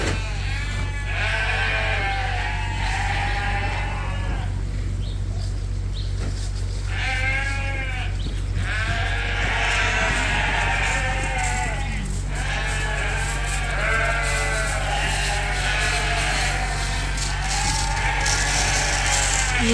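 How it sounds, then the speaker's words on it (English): Fall ewe lambs in a pen bleat repeatedly, several overlapping calls near and far, over a constant low machine hum and occasional metallic rattles, with no voices. "in the pen behind these girls are the fall ewe lambs"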